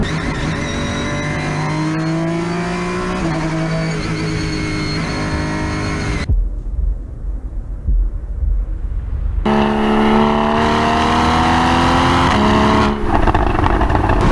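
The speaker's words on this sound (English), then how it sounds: "I'm sure it's louder than Michael Fassbender's racing car" Porsche Boxster GTS engine revving hard through dropped gears, a loud rising and falling howl that cuts out briefly mid-run before pulling again, heard close with no talk.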